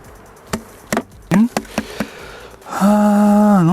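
Honeybees swarm around an opened hive frame in an apiary, a loud, close buzz rising and holding steady after a few sharp knocks and taps on the wooden frames.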